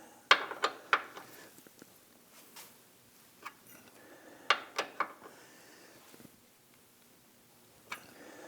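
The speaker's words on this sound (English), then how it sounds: "we're going to go ahead and rotate this, tightening it until that mark on the head of the bolt is completely on the opposite side" A front control arm bolt on a Volvo S60 is tightened by hand, giving sharp metallic ratcheting clicks in short bursts separated by pauses. The clicks sound close and clear against a quiet workshop.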